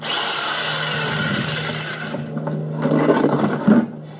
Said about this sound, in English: cutting the remaining unneeded portion out with the jigsaw